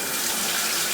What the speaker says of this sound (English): then you get this nice, huge shower. How's the pressure?